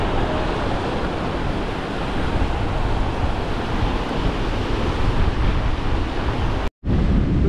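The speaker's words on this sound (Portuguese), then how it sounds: "ventinho maral, jogando ondulação pra beira" Sea waves washing onto the beach at Arraial do Cabo in a breeze, a continuous close roar of surf mixed with wind noise on the microphone, broken by a brief dropout near the end.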